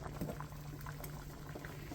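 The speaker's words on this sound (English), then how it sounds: "Now these been boiling for about like 20 minutes." Eggs boiling hard in a pot of water, a steady close bubbling and churning that runs evenly throughout at moderate volume, with no voices.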